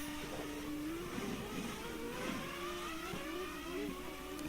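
Race cars in the GPRO F1 racing game accelerate hard on the Japan circuit, a steady droning engine whine rising in pitch over continuous mid-level engine noise throughout.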